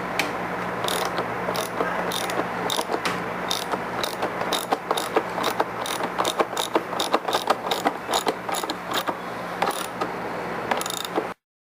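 Socket wrench with a 17mm socket ratchets steadily on a Kawasaki ZX-14 motorcycle: rapid, close, loud clicking bursts repeating for about eleven seconds, with no talk.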